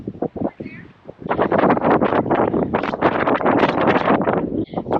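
Strong wind buffeting the microphone outdoors, loud gusty rumble that dominates most of the stretch, with a voice speaking briefly at the start.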